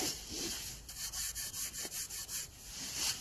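DeWalt DW735 thickness planer feeding a wood board, a faint rhythmic rasping cut that pulses in a regular series of short bursts, heard alone without voices.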